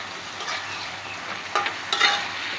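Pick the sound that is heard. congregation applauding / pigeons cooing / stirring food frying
stirring food frying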